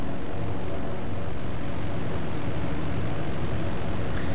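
Piston aircraft engine in the IL-2 Sturmovik 1946 flight game, a loud, steady, dense roar droning without pause and with no talk over it.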